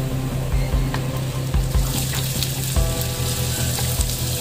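Ginger fries in a pan for adobong tuna, a loud, close, continuous sizzle with a low hum underneath and occasional knocks and scrapes of stirring, with no voices.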